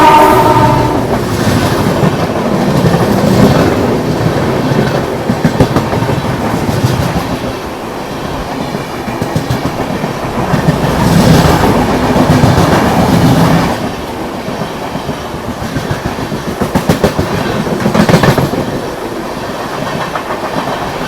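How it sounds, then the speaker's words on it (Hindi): Madurai–Chandigarh Superfast thundering past while overtaking the Khajuraho–Udaipur Express, loud and close, with a steady rolling roar and rhythmic wheel clatter that swells in several waves as the coaches go by. "ये आ गई अपनी मदुरई चंडीगढ़ सुपरफास्ट,"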